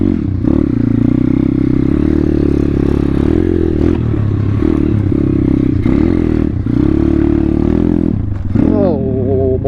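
A pit bike's engine drones loudly and continuously as it rides through deep, flooded mud, its revs rising and dipping with clattering and splashing, and a burst of higher revving comes near the end.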